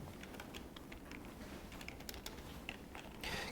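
Rapid typing on a computer keyboard, a steady patter of close clicking keystrokes with no talking, ending in a slightly louder flurry.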